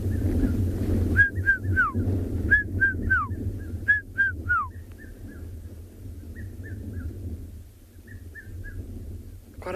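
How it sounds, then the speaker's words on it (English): A red-chested cuckoo whistles a series of clear, descending phrases over and over from thickets around a clearing at dusk, fairly near, then fainter and sparser, above a steady low rumble. "there's a red-chested cuckoo calling incessantly."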